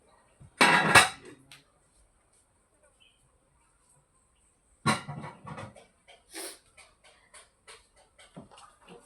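Metal cooking pots being washed clatter and scrape in two bursts, first a loud clang, then a pause before more scattered knocks and rattles of cookware being handled nearby.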